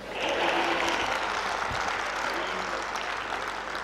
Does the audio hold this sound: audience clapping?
yes